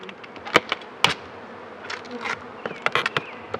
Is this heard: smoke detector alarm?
no